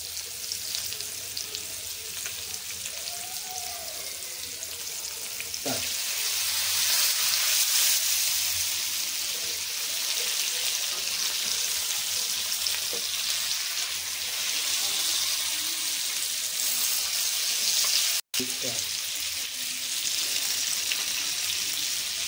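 Bangda mackerel frying crisp in a pan over a high flame, a continuous loud sizzle that swells partway through, with a brief clatter and a sharp cut near the end.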